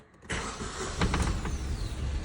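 A ZAZ Lanos engine cranks and catches after a brief near-silence. It jumps into a loud, close starter whir and settles into a rough idle, with a few sharp knocks audible near the start.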